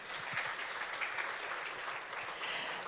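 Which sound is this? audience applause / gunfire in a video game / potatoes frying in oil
audience applause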